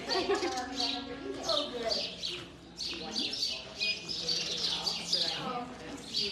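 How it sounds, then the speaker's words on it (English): Birds chirp and tweet in quick, repeated bursts indoors during a birthday fundraiser telethon, fairly loud and continuous, mixed with some speech in the background. "The birds are chirping."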